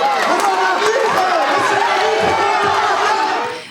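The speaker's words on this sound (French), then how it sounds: "Près de 500 spectateurs sont venus applaudir ces gladiateurs des temps modernes au COSEC de Bitche." About 500 spectators cheering at a wrestling event in the COSEC sports hall in Bitche, a loud close roar of shouting voices sustained throughout.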